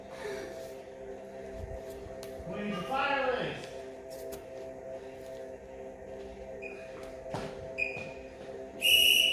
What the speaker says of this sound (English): There's that halfway whistle.